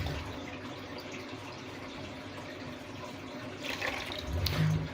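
Clean tap water is poured into a container of aulophorus worms. It is a faint, quiet splashing and trickle that grows slightly louder and fuller toward the end.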